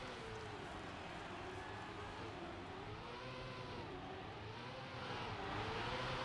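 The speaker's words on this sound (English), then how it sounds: "Let's put up the car sound just a little bit here." Trackmania race car engine whining continuously with rising and falling pitch as it accelerates and corners, faint under a steady background bed.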